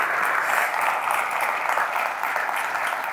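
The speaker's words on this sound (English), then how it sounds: "I think we can applaud all the ministers for their strong engagement." Steady audience applause at a ministerial panel discussion, dense and continuous clapping filling the room from start to finish.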